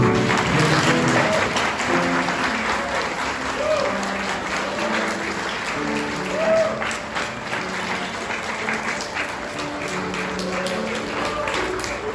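Sustained applause from wedding guests welcoming a newlywed couple at a ceremony, many hands clapping steadily throughout with crowd murmur and some voices mixed in.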